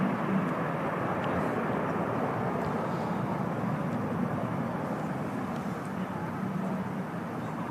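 An Airbus A330 airliner takes off at Manchester Airport, a steady broad engine roar filling the air at moderate distance and holding constant throughout.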